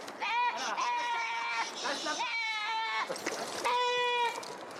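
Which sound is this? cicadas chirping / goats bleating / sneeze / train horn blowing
goats bleating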